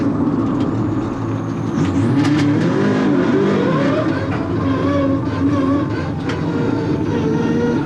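A rally car backs up along a forest stage road to help another crew stuck off the roadside, its engine droning and revving steadily and loudly throughout, with no talk.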